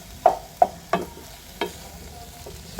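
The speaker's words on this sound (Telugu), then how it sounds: "ఇక్కడ మాడకుండా ఎలా ఫ్రై అవుతుంది చూసారా?" Food frying in a pan, heard as a quick series of sharp metallic spatula taps and scrapes against the pan over a faint, low sizzle.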